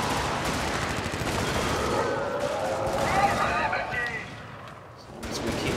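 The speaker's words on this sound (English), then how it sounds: "Do a strafing run, it'll do some damage." Aircraft strafing-run gunfire in a video game rolls on as a dense, continuous stream of rapid shots and booms. It thins out briefly near the end and then resumes.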